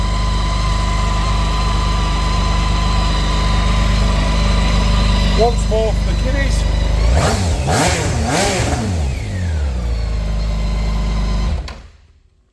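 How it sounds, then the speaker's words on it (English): BMW K1600 GTL touring motorcycle engine idles smoothly and close, then revs sharply in several quick blips before settling and cutting off, with someone speaking briefly in between. "Hopefully you can hear that on the engine as well."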